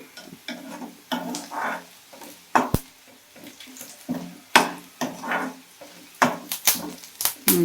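Spices sizzle as they fry in a pan for mutton gravy while a utensil scrapes and knocks against it in irregular stirring strokes, with sharp clinks now and then.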